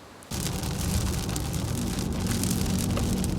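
Steady broadband hiss of heavy ocean-effect rain starts abruptly and continues evenly, a dense downpour nearby in Needham Highlands with no voices.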